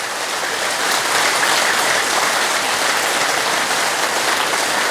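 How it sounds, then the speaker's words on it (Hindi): An audience claps together at a stress-management talk, a loud, dense and steady round of applause that holds evenly for about five seconds with no voices over it. "ताली बजाओ रोग भगाओ"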